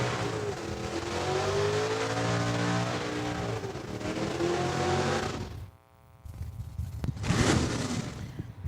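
A 1991 Ford Mustang street-legal drag car does a burnout at the strip, its engine roaring loud and sustained with tire noise, dropping briefly before revving up again.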